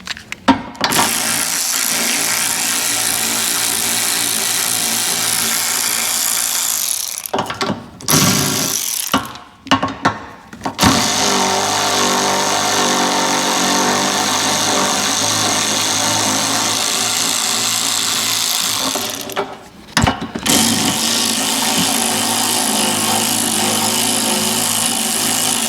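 A loud power tool buzzes and whines in long sustained bursts close by, with brief pauses between runs, unbolting a crash bar from a salvage Nissan Qashqai.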